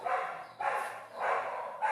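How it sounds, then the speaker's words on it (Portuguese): Dogs out in the street bark in three loud, separate bursts about half a second apart, fairly close and heard on their own with no voices over them. "Agora é os cachorros ali na rua, o negócio agora ficou feio."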